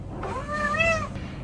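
A cat gives a single drawn-out meow indoors, rising and falling in pitch over about a second, close and clear, with no talking.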